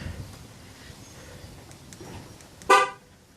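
Ford F150 horn giving a single short, fairly loud honk near the end while the factory alarm arms, following quiet background.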